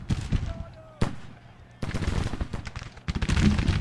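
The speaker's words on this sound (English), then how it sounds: "we're taking some return fire from their skirmishers, taking some more casualties" Gunfire crackles in the Civil War strategy game Grand Tactician during the 1864 Battle of Olustee, Florida, with sharp reports and bursts of rapid volleys coming in clusters against a busy battle din.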